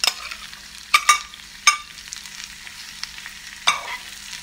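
Gourd pieces tossed into a hot pan for stir-frying with eggs, giving a steady close sizzle broken by several sharp scraping stirs and clatters, no voices.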